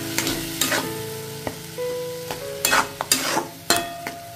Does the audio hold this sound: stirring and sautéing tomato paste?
yes